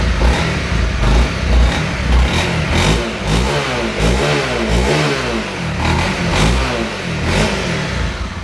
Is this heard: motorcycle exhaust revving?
yes